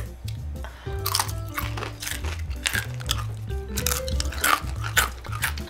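Someone bites and chews crunchy microwaved bacon close to the mic, with repeated crisp crackling crunches and moist chewing over several seconds, while a low hum and faint tonal sounds run in the background.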